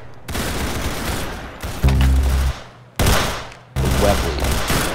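Roblox Arsenal gunfire: loud rapid bursts of shots in several clusters, with brief pauses and heavier booming volleys between them, filling the whole stretch without talk.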